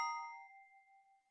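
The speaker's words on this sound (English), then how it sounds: "That little bell sound at the end." A small bell dings once as a door opens in Minecraft 1.12, a clear bright strike with a ringing tone that fades slowly, alone with no talk.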